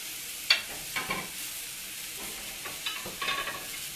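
Breakfast sausage frying in a pan, a soft steady sizzle with scattered utensil scrapes and light clicks, heard alone without talk.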